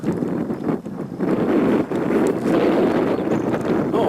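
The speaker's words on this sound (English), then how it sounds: "Oh, wouldn't you know, the wind's blowing." Steady wind gusting across open ground at Bear Butte, a loud continuous buffeting roar that dips briefly near the start and then holds strong.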